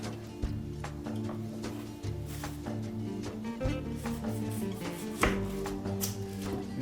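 An onion is finely chopped with a knife for tavche gravche, the traditional Macedonian baked-bean dish, giving scattered, irregular blade taps on a board beneath steady, prominent background music.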